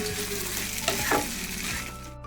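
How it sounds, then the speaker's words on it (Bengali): Cashews, melon seeds and green chillies fry in hot oil with a steady, close sizzle, broken by a couple of brief stirring scrapes partway through, with no one speaking. "এবার সমস্ত কিছু ভালো করে একটু ভেজে নেব"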